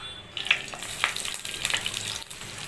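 Whole eggs frying in hot oil in a wok, with turmeric sprinkled over each. A steady crackling sizzle runs throughout, with a few sharper pops standing out. No one speaks.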